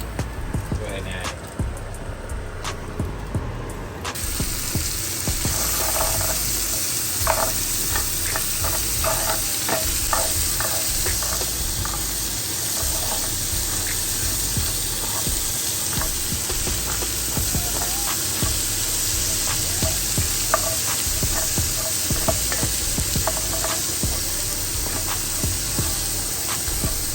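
Crispy peppers frying in a cast iron skillet alongside seasoned salmon and rice, a steady loud sizzle and hiss with occasional stirring scrapes throughout, a brief louder burst at the start.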